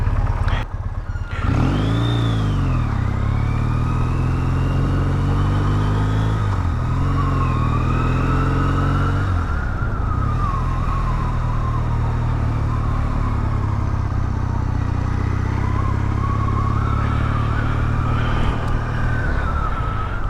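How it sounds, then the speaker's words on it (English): A Triumph Bonneville motorcycle riding through Amsterdam city traffic, its engine loud and close with tones swelling and dipping as it revs and eases, a constant drone throughout. "this is something that I don't miss from Amsterdam. Crazy traffic."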